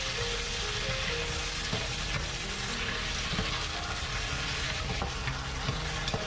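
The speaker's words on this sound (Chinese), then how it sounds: "用勺子充分搅拌均匀" Shiitake mushrooms and bell peppers stirred with a spoon in a sizzling wok over high heat, a steady loud frying hiss with scraping stir sounds throughout and no speech.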